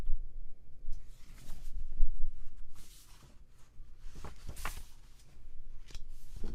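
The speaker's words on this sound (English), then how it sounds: "See if I can get the page turned." A paper book page is turned during a read-aloud, giving several short, dry rustles and crinkles close by, with quiet gaps between them and no talking.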